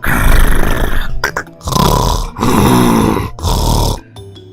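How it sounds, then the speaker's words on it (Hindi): A man snores in deep sleep beside another sleeper in a tent while camping on a mountain trek, with long, loud, rasping breaths in a slow rhythm and short pauses between them. "बाद में उस आदमी के बगल में सोकर खर्राटे मारते हुए गहरी नींद सो गया।"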